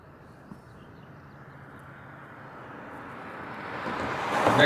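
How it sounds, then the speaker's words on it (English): A Southwest airliner departs Honolulu's reef runway, its jet roar starting faint and distant and building steadily louder over several seconds as it approaches, with no talk over it. "Next one out on the reef run will be a Southwest. It's heading off to LAX."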